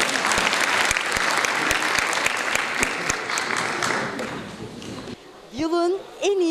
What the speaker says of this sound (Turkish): Bu başarılı ayrıca alkışlarla uğurluyoruz.